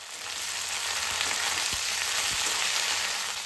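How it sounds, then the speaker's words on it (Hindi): Saag greens frying in a pan, a dense steady sizzle heard up close, with a couple of soft low knocks from the pan or spoon partway through and no talking. "हल्का-सा हमें इसको फ्राई करना है।"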